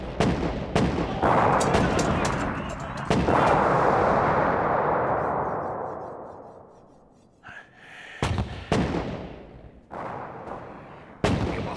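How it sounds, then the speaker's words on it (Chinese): Bombardment in a kung fu action film: a series of heavy explosions and gunfire-like blasts, loud and close, with a sustained rumbling roar through the middle, a quieter lull, then more sharp blasts near the end. "给我炸，给我拼命的炸！"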